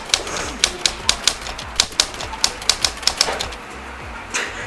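Rapid clacky keystrokes on a lit-up keyboard, a dozen or so sharp, close taps in an uneven rhythm, then a brief pause.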